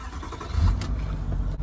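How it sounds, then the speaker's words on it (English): Diesel V8 in a Range Rover Sport TDV8 rumbles close by, swelling into a brief rev around the middle before settling back to a steady, throaty idle. "let me start the car and you can hear it"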